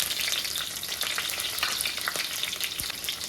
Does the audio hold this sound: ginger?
yes